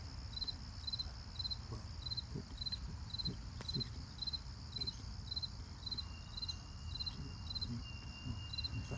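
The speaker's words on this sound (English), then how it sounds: "we're gonna listen to this cricket." A cricket chirps steadily in a rapid, evenly spaced pulsing pattern, close and clear, over a low background rumble with no voices.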